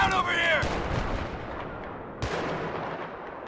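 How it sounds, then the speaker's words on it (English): Gunfire and explosive blasts in Battlefield 3 near an oil refinery, with a roaring wash of battle noise, a sharp crack partway through, and a voice briefly audible. "Where are you getting shot from?"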